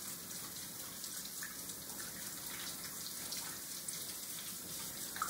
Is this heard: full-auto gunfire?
no